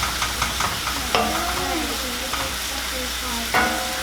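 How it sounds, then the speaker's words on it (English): Sausage patties sizzle and crackle in a frying pan close up, with light scraping and clinks of a utensil stirring and a faint tonal sound in the background. "I know like this is sizzling and"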